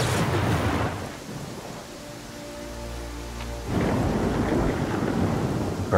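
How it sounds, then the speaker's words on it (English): Rain and thunder in the fantasy role-playing game Pathfinder: Kingmaker, a steady hiss of rainfall broken by a low rolling rumble that fades midway before the downpour swells again. "Oh, it's just raining."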